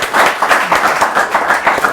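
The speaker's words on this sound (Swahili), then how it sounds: "Wapi makofi yake?" Audience applause greets a guest arriving at a talk show in Kenya, a steady, dense clapping of many hands at close range, held evenly for a couple of seconds.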